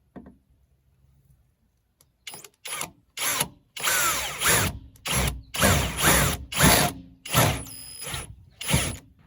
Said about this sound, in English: So we're gonna drill there.